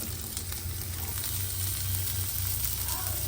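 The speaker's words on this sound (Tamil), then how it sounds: "நான் இந்த மாதிரி ஷாலோ ஃப்ரை தான், அதாவது நம்ம தோசைக்கல் இல்லைன்னா இந்த மாதிரி தவாலாக ஃப்ரை பண்ணுறது தான்" Fish shallow-fries in a little oil on a tawa, a flat dosa griddle, giving a steady, soft sizzle over a low background hum.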